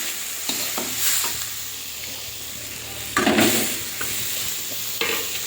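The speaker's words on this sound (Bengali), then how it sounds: "ডালটা হালকা করে একটু নাড়াচাড়া করে" Washed lentils are stirred in a hot pan over a soft continuous sizzle, with periodic scraping strokes and a couple of louder bursts of frying as the spoon moves them around, close and without voices.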